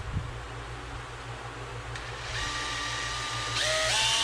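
A small power drill drilling pilot holes with a small bit during an RV door install whirs in short bursts, its pitch rising as it spins up, fairly close with a faint background hum.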